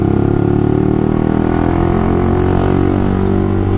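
A motorcycle engine runs loudly and steadily close by, with a dense low droning rumble that holds through the whole stretch and no voices over it.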